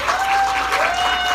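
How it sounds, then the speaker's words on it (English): Audience clapping for guests at a wrap party in Reno, a brief steady round of applause with a faint tonal hum running beneath it. "Round of applause for our guests"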